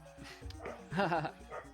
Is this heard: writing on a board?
no